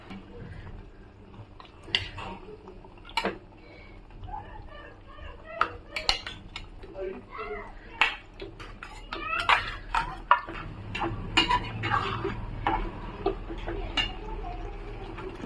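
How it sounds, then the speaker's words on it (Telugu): Washed raw chicken pieces go into a hot pan of fried masala for a spicy chicken fry, giving close clanks and scrapes of a utensil against the pan with small sizzling and stirring sounds throughout. "ఇప్పుడు ఇందులో మనం కడిగి పెట్టుకుని చికెన్ వేసుకుందాం."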